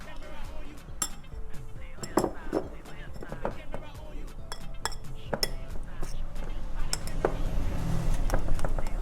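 Okra, bitter ball and sesame seeds are mixed together in a bowl, giving scattered clinks and knocks of utensil on dish at an uneven rhythm, close by, while a person talks over the clatter.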